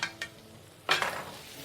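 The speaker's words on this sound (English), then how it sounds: "We are going to add the portobello and the mushroom." Portobello and other mushrooms hit a hot pan and are stirred, a soft sizzle with a couple of scraping stir sounds, close and fairly quiet, no voices.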